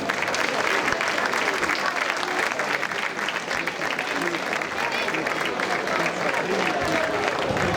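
An audience claps to welcome a Sardinian folk group from Posada, Casteddu 'e sa fae, onstage. The applause is loud, thick and continuous for almost eight seconds, with a crowd murmur blended in.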